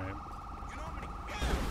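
A police car siren wails in GTA V with the LSPDFR police mod, a steady, rising and falling electronic tone over game noise, followed by a louder burst of rumbling sound near the end.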